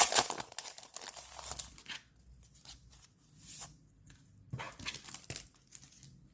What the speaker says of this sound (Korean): 비닐을 뜯어 볼게요